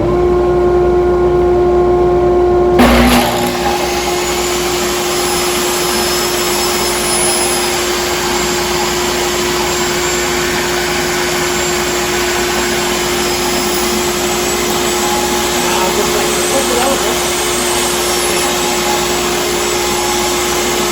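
A circular saw cutting plywood for a cabinet door runs as a loud, steady high whine from start to finish, its pitch shifting slightly as it bites into the material just after the start.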